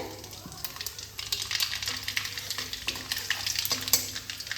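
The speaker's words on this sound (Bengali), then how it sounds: "তেল গরম হয়ে গেছে, এবার আমি ফোড়ন দিয়ে নেব। তেজপাতা, শুকনো লঙ্কা, এখানে 1 চামচ কালো জিরে।" Bay leaf, dried chili and nigella seeds sputter and crackle as they hit hot oil for tempering, a steady close sizzle with scattered pops, with some stirring underneath.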